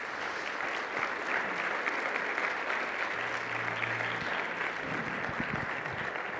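Sunday church congregation applauding during a sermon, a steady sustained wave of many hands clapping at moderate loudness, with a low hum or sung note briefly underneath.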